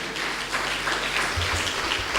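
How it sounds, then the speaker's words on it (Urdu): Loud, sustained applause from a church congregation gathered for worship in Karachi, a steady wash of clapping filling the whole clip without spoken words. "زوردار تالیاں خدا کے جلال کے لیے"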